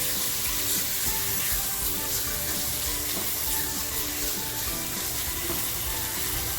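Tomato being sautéed in a hot pan for methi (fenugreek) prawns gives off a steady, dense sizzle and crackle that holds at an even level throughout, with faint stirring underneath and no talking.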